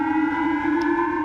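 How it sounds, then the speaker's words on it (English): Civil defense warning siren sounding in Hokkaido, Japan, a steady loud wailing tone with layered harmonics held throughout, no speech. "tourist Matt Galat, staying in Hokkaido, was awoken by the deafening sirens"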